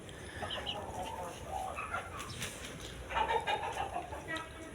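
Laying hens cluck and murmur continuously inside a poultry house, a dense, busy layer of bird calls at moderate level with no talk over it.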